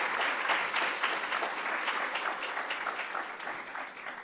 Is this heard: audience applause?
yes